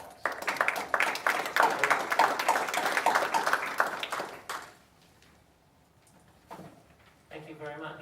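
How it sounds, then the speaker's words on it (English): Applause from an audience at a public school board meeting, a dense burst of clapping for about four and a half seconds that fades out, followed by quieter room noise and brief talk near the end. "Let's give them a round of applause."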